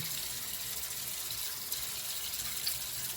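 Water runs steadily from a tap while a face product is rinsed off, a continuous close rushing hiss with no pause.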